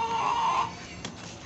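Chickens clucking in a home coop setting, a short run of soft nearby clucks and calls that fade after about half a second.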